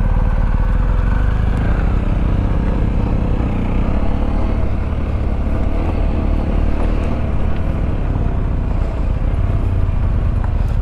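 A Sinnis Terrain 125 motorcycle rides slowly off road under engine braking, a low continuous engine drone mixed with heavy wind rumble, steady and close throughout.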